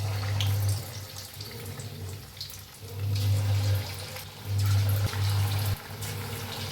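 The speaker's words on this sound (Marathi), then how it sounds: "आता आपण तळून घेऊया एक एक पीस घेऊन घालायचं असं तेलात" Chicken 65 pieces frying in hot oil, a loud continuous sizzle and bubbling hiss with surges as pieces are added and stirred, no talking over it.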